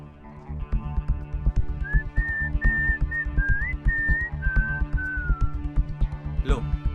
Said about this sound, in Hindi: अक्सर वो सीटी बजाता है